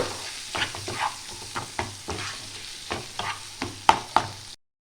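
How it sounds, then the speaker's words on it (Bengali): Chopped tomato sautés with spices for a vegetarian broccoli curry, stirred with quick, evenly spaced scrapes over a low sizzle, close up and without speech. "টমেটো একটা কুচিয়ে রাখা, দিয়ে এটা ভালো করে আমি কষিয়ে নেব।"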